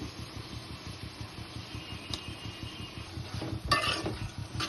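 Tomatoes are stirred in a pan for prawn curry, with scraping spoon strokes and a few metallic clinks against the pan over a steady low hum, ending with a louder scrape.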